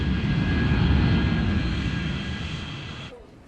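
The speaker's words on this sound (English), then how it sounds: "It's our first flight coming in, United from Chicago" A United airliner arriving from Chicago lands at Heathrow, its engines a loud, steady roar with a whining tone that holds, then slowly fades before cutting off abruptly near the end.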